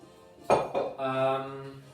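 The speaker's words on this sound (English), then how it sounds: "A big mixing bowl." A big mixing bowl for scone prep is set down with one sharp, close clank, then a softer knock, and its ringing tone hangs briefly before fading.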